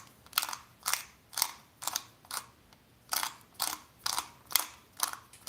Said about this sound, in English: This grinder is not doing a very good job at grinding fast enough